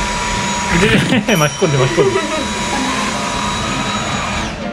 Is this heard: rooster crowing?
no